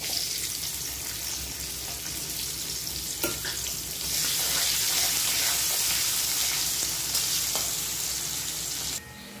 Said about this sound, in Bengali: বেরেস্তাটা ভেজে নিচ্ছি।